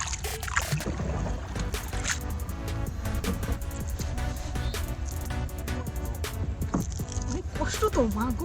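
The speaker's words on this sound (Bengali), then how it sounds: "আমি এখন নৌকায় উঠবো, চাচা আসতেছেন।" A small rowboat moves across Arial Beel, a wetland full of water lilies, with continuous splashing and creaking, scattered clicks and knocks, and a voice briefly heard near the end.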